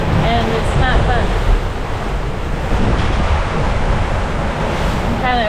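Rough, confused seas slap against a Leopard 40 catamaran under way while strong wind buffets the microphone, a loud constant roar of water and gusts with faint voices briefly audible underneath.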